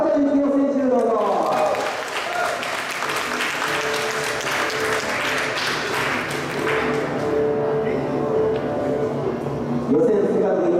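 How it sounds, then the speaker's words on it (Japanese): Sustained audience applause welcomes Mini-Z RC car racers at a 2012 Osaka Formula class A main event, a dense steady wash of clapping that lasts throughout while an announcer talks over it. "皆さん大きな拍手でお迎えください"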